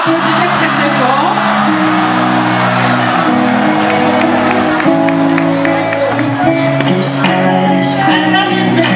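A youth crowd cheers and whoops at a gathering with a visiting cardinal, with shouts over a loud, steady, tonal backdrop of music or voices, and scattered bursts of excitement near the end.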